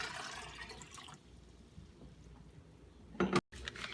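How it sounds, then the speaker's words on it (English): Water pours and splashes into a large pot while making kombu dashi broth. The sound is a steady, moderately loud stream at first, then settles, with a brief louder splash near the end. No one speaks. "pour 16 cups of water into a large pot"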